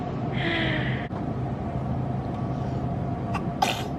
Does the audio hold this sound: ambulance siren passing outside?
no